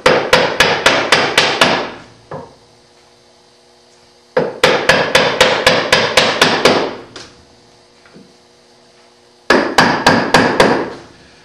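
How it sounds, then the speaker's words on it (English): Mallet blows driving a chisel into wood while hand-cutting dovetails, loud and close, coming in three fast runs of six or seven sharp strikes separated by short quiet gaps. "you can make very precise cuts with a chisel"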